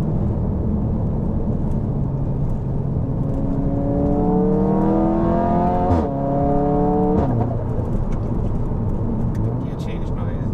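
A tuned Stage 3 VW Golf 7R engine revs hard, its loud roar rising steadily in pitch and then dropping back after a shift, heard up close over a constant throaty drone.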